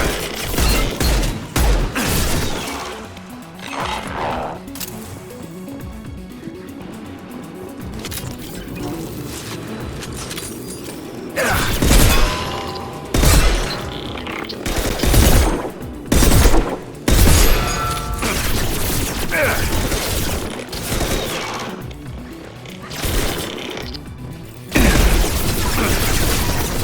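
Heavy gunfire rattles through a Mass Effect 2 battle, loud bursts and booming impacts crowding over one another in dense, repeated volleys with brief lulls between.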